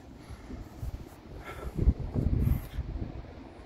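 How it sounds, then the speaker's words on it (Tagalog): Strong wind blows outdoors on a cold morning in the Tacoma, Washington area, steady rumbling gusts buffeting the microphone and swelling louder near the middle, with no talk. "Okay, medyo maginaw na nga at malakas ang hangin."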